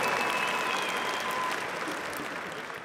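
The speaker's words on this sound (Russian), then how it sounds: "Аплодисменты." An audience at a fight event claps in a dense, steady burst of applause that fades slightly toward the end.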